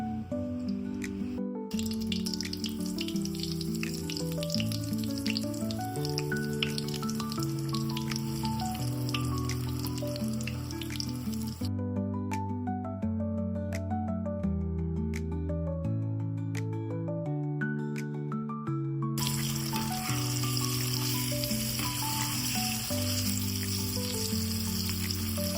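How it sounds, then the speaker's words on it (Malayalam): An egg kabab, coated and dropped into hot oil in a heated pan, sizzles and crackles steadily in the foreground, fading out briefly midway before resuming, with melodic music playing throughout. "ഇനി എണ്ണയിൽ ഒന്ന് പൊരിച്ചെടുക്കുക."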